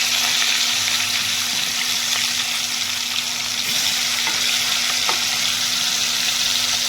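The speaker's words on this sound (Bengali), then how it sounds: "বন্ধুরা, এবার মাছগুলো উল্টে নিচ্ছি, খুব লাল হবে না, হালকা লালে ভেজে নেব।" Pieces of catla fish fry in hot oil with a loud, steady, dense sizzle that fills the whole stretch, broken now and then by a faint clink as the pieces are turned.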